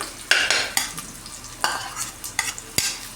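Ground spice paste sautés in the tempering for rasam, a soft continuous sizzle punctuated by several quick scraping stirs of a spoon against the pan, close by and without talk.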